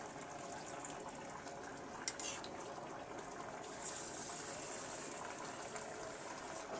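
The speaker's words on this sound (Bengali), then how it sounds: "এবার আমি সামান্য পরিমাণে ঝোলের জন্য পানি দেব" Water poured into a pan of curry with flat beans, cauliflower, potato, tomato and koi fish, a continuous gushing wash over sizzling, with one sharp clink partway through.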